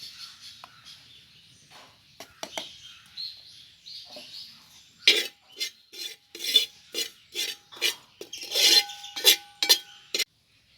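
Coriander powder stirred in a pan for prawn curry, with dry scraping and rasping strokes, sparse at first and then a quicker run of rough scrapes against the pan.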